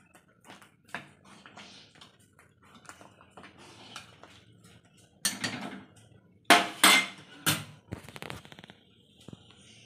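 A utensil mashes cooked dal in a metal pot, producing scattered knocks and scrapes that build into several loud, sharp clangs near the end, with no speech.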